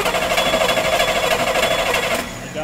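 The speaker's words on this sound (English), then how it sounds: "we're gonna go ahead and crank the engine with the ignition on" Engine cranking over on the starter with the ignition on and the injectors unplugged, a fast, even, rhythmic chugging that runs loud and steady before easing off at the end.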